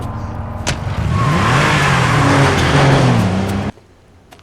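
A truck engine roars loudly and revs up as the vehicle pulls away in a TV drama scene. The engine note climbs and holds for a few seconds before cutting off abruptly to near silence.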